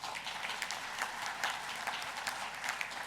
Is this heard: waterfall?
no